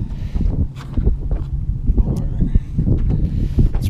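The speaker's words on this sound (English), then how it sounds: "It's pretty windy." Strong wind buffets the microphone outdoors on a fishing boat, rough low rumbling gusts that rise and fall throughout, with faint bits of voice under the noise.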